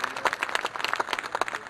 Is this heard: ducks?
no